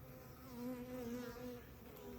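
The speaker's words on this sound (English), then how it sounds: "I shook out all the bees." A dense, steady buzz of many honeybees shaken out around a hive hums close by, rising and falling slightly in pitch and loudness.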